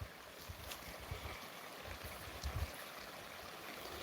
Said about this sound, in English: So there's a little creek running water.